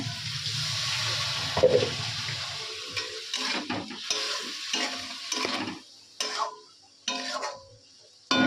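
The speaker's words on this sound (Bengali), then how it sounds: "একটু জল দিয়ে দিই অল্প করেই জল দেবো" A little water is poured into a pot of dried-fish curry on the stove, bringing bursts of sizzling and stirring that come in uneven spurts with short quiet gaps between them.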